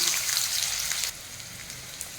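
Potatoes fry in hot mustard oil in a pan, giving a steady, close crackling sizzle that eases slightly after the first second.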